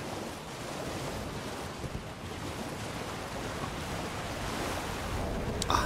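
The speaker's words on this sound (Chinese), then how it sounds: "当你看到右边开始有瀑布的时候" Rushing waterfall roar in Elden Ring, a steady broadband wash of falling water that holds constant and close throughout, with no voices over it.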